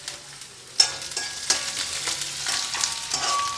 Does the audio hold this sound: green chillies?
yes